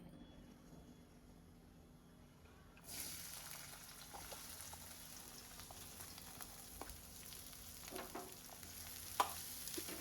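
Near silence, then a sudden loud hiss as capsicum drops into hot oil and keeps frying with a steady sizzle and occasional crackles.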